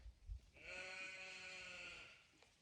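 A sheep gives a single drawn-out bleat lasting about a second and a half, close and clear in a quiet outdoor setting, after a brief low thump.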